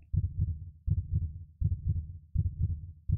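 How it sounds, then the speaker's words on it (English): A heartbeat in the horror video game The Closing Shift thumps steadily, four double-beat pulses in just over three seconds. Low and fairly quiet, it plays alone with no talk. "Oh, you can hear your heartbeat."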